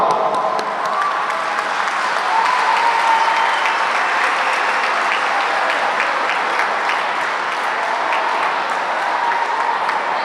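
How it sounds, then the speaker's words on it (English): A crowd of parents and families at a science fair awards ceremony breaks into loud, sustained applause with scattered cheers, thick and unbroken for roughly ten seconds. "I want you to give a big round of applause"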